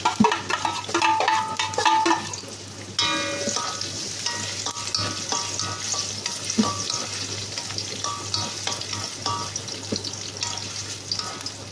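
Garlic and lemongrass sizzle and fry in a pan while being stirred, with steady close crackling and scraping of a utensil throughout, no talking.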